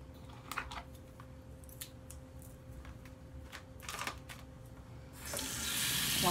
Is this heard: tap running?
yes